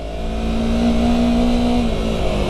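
A Honda CBR250RR motorcycle engine holds a high, steady, buzzing rev close by, its tone rising slightly before easing back, alone with no talk.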